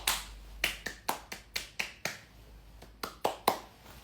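A lone singer claps for himself during a live stream, a dozen sharp, close handclaps in an uneven rhythm with a short pause in the middle.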